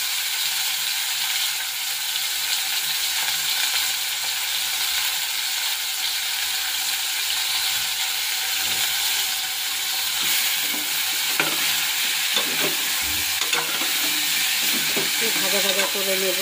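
Pumpkin pieces frying in a five-spice tempering in a pot, giving a loud, steady, close sizzle and hiss throughout, with a few utensil scrapes and stirring clicks toward the end.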